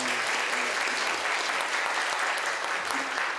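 Congregation applauding a church elder at a Sunday worship service, a dense, loud, sustained burst of clapping from many hands, unbroken from start to finish.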